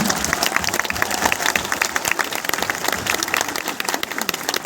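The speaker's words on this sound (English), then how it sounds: "give a round of applause to all of the teachers that are here" Dense applause from a large crowd at BRAC University, steady and sustained throughout, with faint voices mixed in.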